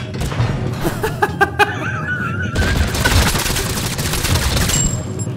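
A grenade detonates in Totally Accurate Battlegrounds, a loud burst of crashing noise arriving midway after a few sharp pops and beeps, followed by sustained rumbling debris.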